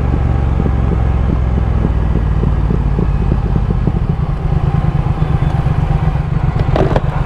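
A Triumph Thruxton R or Ducati Scrambler 1100 motorcycle riding along a cement road, its engine a loud, steady, rumbling drone that continues throughout, close up with wind buffeting.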